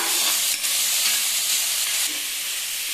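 Crushed garlic and ginger sauté in a pan toward browning with a loud, steady close-up sizzle and hiss, briefly interrupted by a couple of stirring knocks; nobody speaks.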